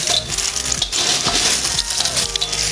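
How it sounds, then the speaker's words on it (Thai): Sun-dried crispy vegetarian protein pieces crunch and rattle loudly as they are handled, a dense stream of brittle crackling and clinking up close. "ฟังเสียงก็รู้นะครับว่า แห้งกรอบขนาดไหน"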